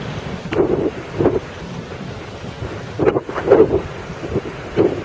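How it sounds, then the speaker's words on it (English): Wind during a Boston blizzard buffets the microphone in low rumbling gusts, with several louder thumping surges rising over a steady roar. "sound of the wind."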